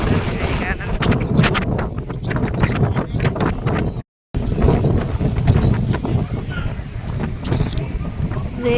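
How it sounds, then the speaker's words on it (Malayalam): Strong seaside wind at Kanyakumari buffets the microphone in loud, continuous gusts, with talking in the foreground and a brief dropout midway. "ഭയങ്കര കാറ്റും കേട്ടോ, ഭയങ്കര കാറ്റ്."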